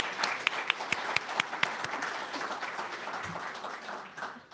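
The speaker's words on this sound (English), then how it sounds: "let's give them a round of applause for that" A round of applause from an audience at a veterans education program cohort celebration, dense steady clapping with a few sharper claps standing out, sustained and moderately loud throughout.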